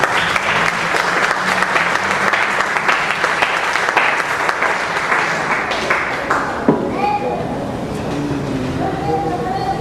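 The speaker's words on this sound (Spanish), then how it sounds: "Eso merece un aplauso, les digo." A church congregation breaks into sustained, dense applause close by, loud and steady for several seconds before thinning out, with voices mixed in near the end.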